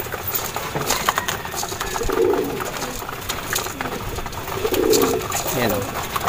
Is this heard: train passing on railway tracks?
no